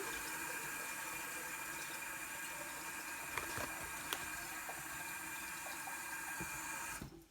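Lukewarm water runs steadily into a container for transplanting dragon fruit, a continuous close rushing wash with a few faint knocks, without talk, before cutting off at the end.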